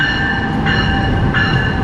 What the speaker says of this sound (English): This train goes straight to Penn Station.